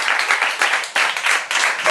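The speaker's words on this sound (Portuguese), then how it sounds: "Bate uma salva de palmas" A church congregation claps together in a steady, fairly loud wash of applause that surges in waves over two seconds, with no speech heard.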